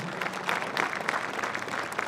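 A crowd applauding veterans at a high school Veterans Day celebration, steady dense clapping throughout, somewhat distant and moderately loud, without speech.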